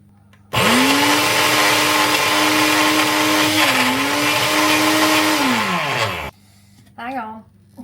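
A food processor whirs loudly on flapjack ingredients, a steady close motor drone lasting several seconds that dips briefly in pitch and then winds down before stopping, followed by a short spoken remark.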